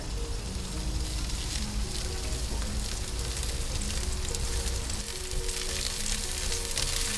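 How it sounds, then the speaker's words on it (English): Thin asparagus spears fry in a pan over a campsite stove, giving a steady, close sizzle and crackle of oil that runs continuously without pause. "Because these asparagus are quite thin, it doesn't take long to cook. You can see they're already softening and charring."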